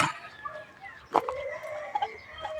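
Chickens clucking and calling nearby, several birds overlapping in an irregular stream of short clucks with occasional louder squawks.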